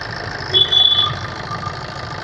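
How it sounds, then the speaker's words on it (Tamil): A 2012 Maruti Ritz LDI diesel engine idles steadily with a low, even rumble, with a brief thin whine rising partway through. "இன்ஜின் ஸ்மூத்தாக வருது."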